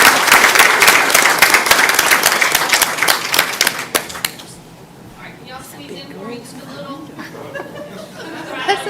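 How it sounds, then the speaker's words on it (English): Audience at a school board trustees meeting breaks into loud, sustained applause with scattered cheers and chatter, fading after about four seconds into murmuring voices and light laughter. "Let's give one more round of applause."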